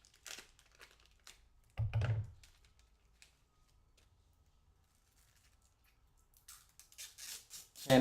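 Crinkly plastic wrap is peeled and pulled off a blue iPhone 5C in a few short rustling bursts separated by quiet pauses, close and fairly soft.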